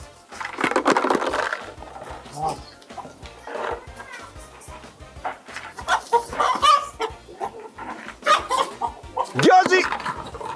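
A chicken clucks and squawks while being chased outdoors, in bursts of agitated calls over scuffling and movement, with people talking and shouting throughout.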